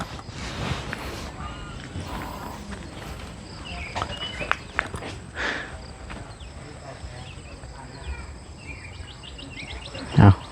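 Birds chirp faintly in an outdoor setting, mixed with insect buzz, shuffling footsteps and people talking nearby, with a brief louder knock near the end.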